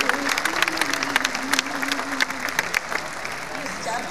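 A poetry recital audience at the Antaragni festival, IIT Kanpur, claps in a brief, moderately loud burst of scattered applause, with a voice talking over the crowd.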